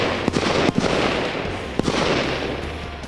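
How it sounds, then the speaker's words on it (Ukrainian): Live-ammunition rifle shots at a military shooting range during women's combat training, several sharp cracks spaced irregularly over a steady outdoor rumble, moderately loud and slightly distant. "Стріляють бойовими патронами"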